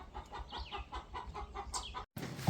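A barnyard hen that does not lay eggs, clucking in a steady series of short, close calls with a louder burst near the end, no talking.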